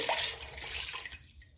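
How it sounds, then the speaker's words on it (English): Water pours into a pot of sweet potatoes in a short, rushing splash that tapers off near the end, with no voices. "I'm going to add water and then turn them on fire."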